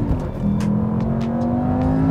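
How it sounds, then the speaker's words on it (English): A Mercedes-AMG GT 63 S E Performance hybrid accelerates hard with a rising engine note that climbs steadily, loud and close, with no talking. "The sound, the acceleration, the way the gears change, and the way this car lunges forward with the traction control working"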